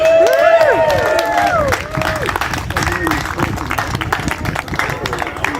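Crowd cheering and applause at a Cancer Support Mallorca charity game, loud at first and then settling into steady clapping with scattered shouts and voices throughout.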